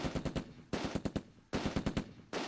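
Machine gun fire in the Close Combat II war game: loud, rapid bursts of several shots each, repeating in tight clusters with short gaps between volleys, no talk.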